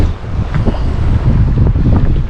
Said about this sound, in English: It is really windy out here, folks. Like really, really windy.